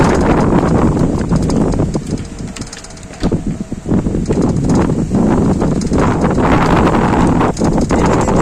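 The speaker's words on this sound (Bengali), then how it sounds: "মোটামুটি বাতাস।" Strong wind gusts roar steadily across a microphone outdoors during a thunderstorm with lightning, loud and broadband, briefly easing midway before surging back with rustling bursts.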